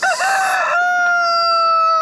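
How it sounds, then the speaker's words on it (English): A chicken in a yard gives a loud, close crowing call, a bright sustained cry that slides and then holds a steady tone to the end. "I think Boy's way over there with the other hens."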